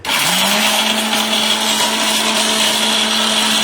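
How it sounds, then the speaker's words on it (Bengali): Blender with a steel bushing grinding something to powder, a loud continuous motor whine that spins up at once and then holds steady, close and with no voices. "বাংলাদেশে এই প্রথম স্টিল বুশের ব্লেন্ডার কিন্তু নিয়ে আসছে আমরা"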